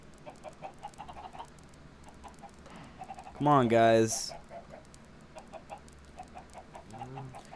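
Chickens in the Minecraft video game cluck in short, repeated bursts throughout, close and moderately loud, while a person speaks briefly over them in the middle.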